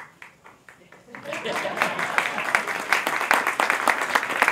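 At a boathouse dedication, a few scattered claps swell into full audience applause, with people talking over the start.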